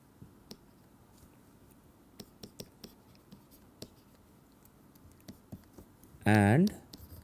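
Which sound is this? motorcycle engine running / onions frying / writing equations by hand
writing equations by hand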